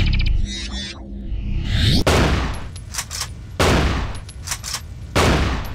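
Stump gun shotgun firing in a first-person shooter video game, three or four heavy, booming blasts spaced about a second and a half apart, each followed by a brief mechanical reload clack.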